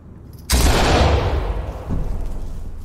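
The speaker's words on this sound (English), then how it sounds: "Flashbang out." A flashbang grenade detonates in the tactical shooter Ready or Not with a sudden loud blast. A long, rumbling, ringing decay follows, with some fainter crackling after it.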